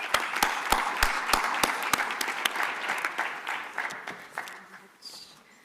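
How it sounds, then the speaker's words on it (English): Conference audience applauding steadily after a plenary presentation, a dense round of clapping that fades near the end. "A round of applause to the presenters."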